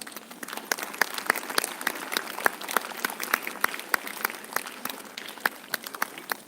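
An audience at a Republic Day school event claps loudly for a bouquet presentation, with many hands striking in a dense, uneven patter that runs the full length without a break.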